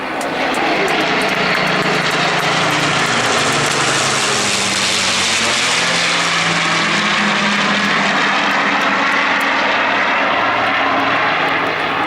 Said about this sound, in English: As you look at the stately roll rate of the Lancaster bomber